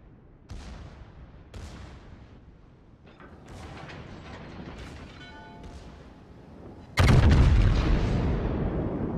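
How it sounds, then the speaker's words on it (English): Warship main guns firing in World of Warships: several sharp booming reports at the start, then a large, loud blast that rumbles on near the end, with mechanical creaks between. "he's probably just spotted the old-fashioned way because he's fired his guns"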